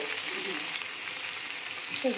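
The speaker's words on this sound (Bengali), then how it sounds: "মাছ ভাজছে।" Fish frying in a pan in a home kitchen, a steady, dense sizzle that holds evenly throughout, with a faint low clatter near the end.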